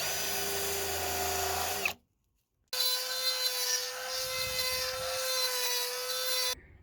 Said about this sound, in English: What we did instead was use a dremel with the carbide cutting tip